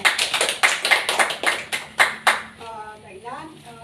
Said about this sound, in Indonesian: Kita beri aplaus untuk Slamet.